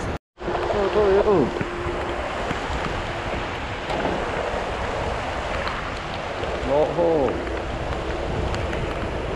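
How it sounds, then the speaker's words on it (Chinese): Heavy rain pours outdoors as a steady, loud broadband hiss that lasts the whole stretch, with people talking intermittently over it. "下雨啊，下大雨。"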